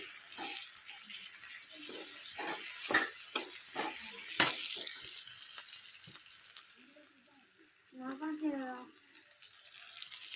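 Onions frying in hot oil for a prawn dish, a bright continuous sizzle with bursts of stirring and scraping, and someone speaking briefly near the end.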